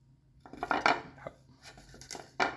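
Chopped chilies, lemongrass and kaffir lime leaves are tipped into a pot of coconut milk, making close clinks and scraping rattles in short clustered bursts with no talking.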